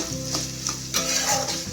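Chopped ginger stirred and frying in a hot pan for a Bengali festive thali: a steady close sizzle with the scrape of the spoon rising in two or three brief surges, no voices.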